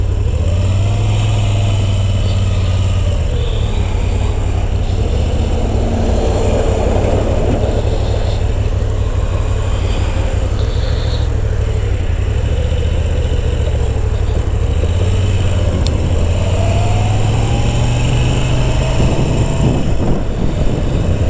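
A 2022 Moto Guzzi V7 850 Special motorcycle engine runs steadily throughout, a loud, low throbbing thrum with rising and falling revs, heard close from the rider's position with wind noise and no talking.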